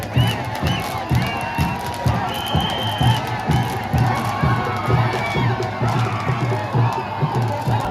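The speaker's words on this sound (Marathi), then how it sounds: "फुल गर्दी होती" A dense crowd cheers and shouts at a palkhi procession in Panvel Koliwada over a steady, rhythmic low pounding. Loud, continuous crowd voices fill the whole stretch.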